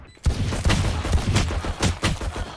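Rapid bursts of gunfire from Valorant, a competitive shooter played on a laggy high-ping Brazilian server, cracking out in loud repeated volleys with short gaps, close and dense for the whole stretch.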